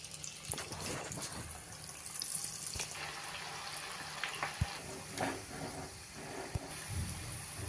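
Sweet corn pakoras deep frying in hot oil, a steady low sizzle with scattered bubbling pops and occasional soft clinks, fairly quiet and without any talking.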